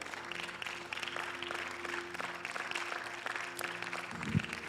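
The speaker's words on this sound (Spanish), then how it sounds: "Amén, dale un aplauso al Señor." A church congregation applauds during a worship service, a steady dense wash of many hands clapping at moderate distance that carries through the whole stretch, with a brief low thump near the end.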